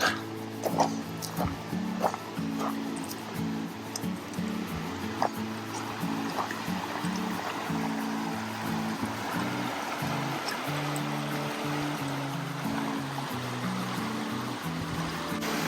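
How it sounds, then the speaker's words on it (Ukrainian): Three Sisters Creek, a mountain creek in the Canadian Rockies near Canmore, Alberta, flows with a continuous soft rushing wash under a steady low musical drone, moderately distant. "Three Sisters Creek."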